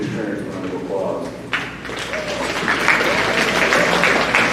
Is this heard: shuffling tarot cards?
no